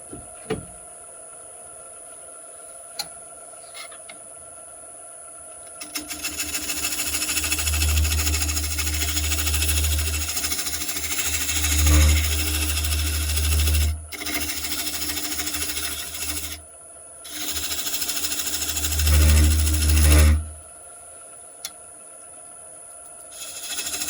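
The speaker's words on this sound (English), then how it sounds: "just attack that with the scraper" A woodturning scraper cuts elm wood on a lathe, long out from the jaws with some juddering: a loud, sustained rough grinding drone over the motor hum, broken by a couple of short pauses, with no talk.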